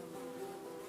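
Flies buzzing in a steady, droning hum that holds quietly close by, a thin continuous whine without pauses and no voices.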